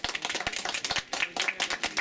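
Applause from a small outdoor audience at a village spring-welcome festival, a brisk run of distinct, fairly close hand claps with an uneven rhythm.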